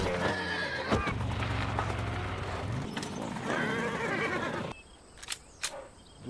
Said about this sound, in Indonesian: tanpa sengaja salah satu anak buah Pablo menabrak kuda yang tak bersalah